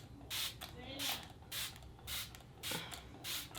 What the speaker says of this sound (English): I'm spraying with my Smashbox Primer Water that is not spraying properly